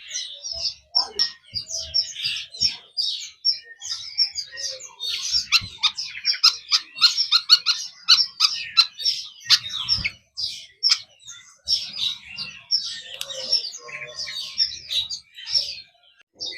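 A caged songbird, fed on caterpillars, sings in an Indonesian bird shop, with bursts of bright chirps and warbling trills that repeat through the whole stretch at moderate volume, plus faint background knocks.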